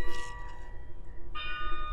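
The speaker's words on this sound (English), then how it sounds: "الجرس عم بيرن" A school bell rings with sustained, clear tones that fade and then strike again near the end, heard outdoors at moderate loudness.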